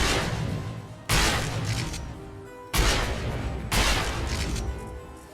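Heavy gunfire from a shotgun-style weapon in the video game Wizard with a Gun, three loud booming blasts at roughly one-second intervals, each with a long decaying tail.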